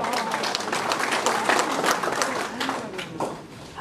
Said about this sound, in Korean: 부디 잘할 수 있도록 박수 한번 부탁합니다.